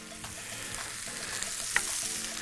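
A garlic clove sizzles in a hot, dry pan for beef shawarma, giving a steady close crackling hiss with no talk and one small sharp tick near the end.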